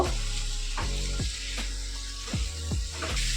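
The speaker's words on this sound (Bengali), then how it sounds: "এবার একটু কষিয়ে নেব" Raw banana and potato curry with tomato and sugar sizzles steadily in a hot pan during sautéing, with a continuous frying hiss broken by several scraping stirs of a spatula, close up and with no talking.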